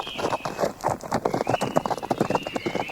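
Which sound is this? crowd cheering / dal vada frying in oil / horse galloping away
horse galloping away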